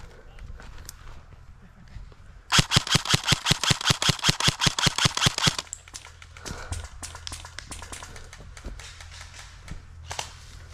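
Airsoft guns firing during a search and destroy game, a sharp burst of about twenty rapid, evenly spaced shots lasting around three seconds, followed by quieter scattered clicks, rustling and distant movement.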